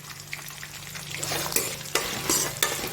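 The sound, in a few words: stir-frying potato for sabudana khichdi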